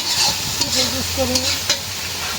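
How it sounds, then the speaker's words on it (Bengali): Spices fry in a pan with a continuous close sizzle, broken by scraping stirring strokes and a faint tonal whine in the background. "মশলাটা একদম ভাজা ভাজা করে ফেললাম"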